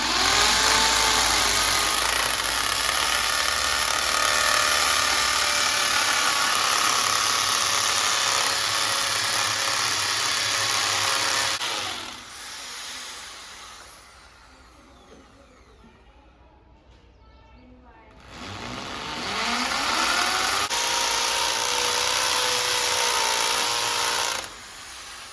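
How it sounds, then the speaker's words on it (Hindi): Electric drill machine bores into a fixture for a height measuring instrument, a loud steady whine that eases off to a quieter spin midway, then ramps back up at full power. "हमारे पास में है हमारी ड्रिल मशीन, जो हमारे आयस क्रांति यूट्यूब चैनल से ही हमने पेमेंट से लिए थे और इसी से अब हम यहाँ पर ड्रिल लगाएंगे।"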